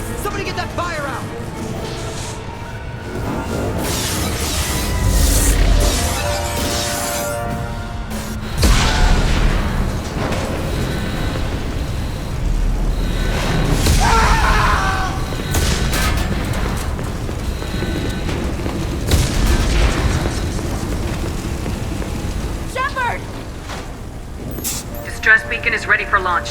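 Explosions and booming blasts during a ship attack in Mass Effect 2, deep rumbling bursts recurring over a continuous roar of fire and alarms, with urgent voices speaking over the chaos.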